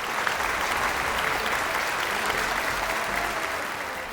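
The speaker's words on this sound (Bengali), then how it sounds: "আমাদের মিউজিশিয়ানসদের জন্য একবার জোরে হাততালি হয়ে যাক প্লিজ" A studio audience at a police singing competition applauds the musicians in a dense, sustained wash of clapping that stays loud and even before easing slightly at the end, with no one speaking.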